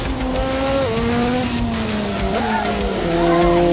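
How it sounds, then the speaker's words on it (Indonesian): Racing-game LMP race car engine howling at high speed on a dirt road, a steady loud drone with pitch shifts as it changes gear and tires squeal, alone without talk. "Kita ngebut lagi aja gas, 180 km/jam."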